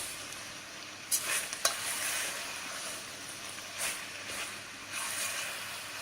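Kavurma meat sizzling in its own rendered fat, a steady close frying hiss with a few brief sharper crackles and stirring sounds, no talking.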